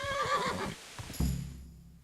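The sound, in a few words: horse neighing in Kingdom Come: Deliverance video game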